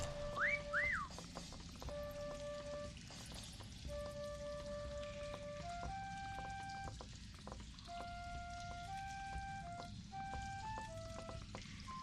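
Tonal whistle calls repeat from a player's character in a hide-and-seek video game, clear sustained notes and short melodic phrases recurring over a steady rain-like hiss of background noise, moderately loud and without speech.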